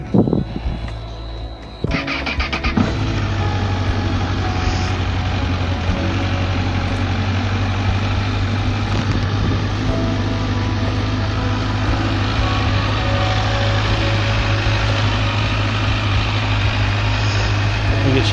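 A Honda CBF1000 motorcycle engine cranks and catches after about two seconds, then settles into a steady, loud, rumbling idle that holds close by for the rest of the clip.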